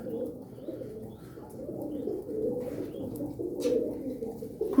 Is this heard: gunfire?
no